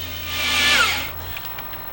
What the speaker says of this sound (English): as you complete the drill hole